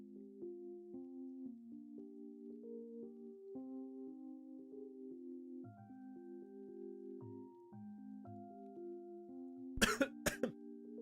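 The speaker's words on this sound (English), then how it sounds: "I'm probably gonna be like coughing a lot here and there all stream." Soft sustained musical tones play quietly, then two or three sharp, harsh coughs break in close by near the end.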